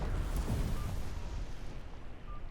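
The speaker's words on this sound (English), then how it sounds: "They're shooting off fireworks." Fireworks in a video game burst as a deep rumbling boom that rolls off into a fading low roar, with a faint distant crackle trailing behind.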